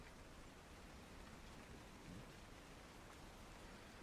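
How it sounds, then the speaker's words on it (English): Steady rain ambience with a soft low rumble plays as background atmosphere for a Baldur's Gate 3 tabletop-style campaign session, a constant even wash of rainfall with no speech. "As they will bow and walk out into the rain."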